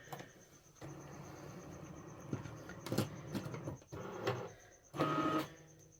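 A Cricut Maker 4 cutting machine powers up, giving off faint whirring motor sounds, soft mechanical clicks and a few short electronic tones in a quiet room.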